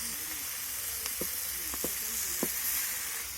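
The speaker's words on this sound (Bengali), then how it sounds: "সবজিগুলোকে আবারও একটু নাড়াচাড়া করে নেব" Half-boiled vegetables sizzle steadily in a pan while a spoon stirs them, with a few short scraping strokes against the pan over a constant hiss.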